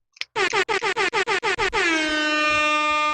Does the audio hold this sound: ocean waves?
no